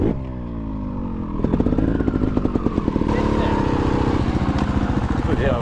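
A trials motorcycle engine runs loud and close while its rider tries it out for the first time in Ammanford, its tone climbing and shifting as the throttle opens, with a persistent clattering drone throughout.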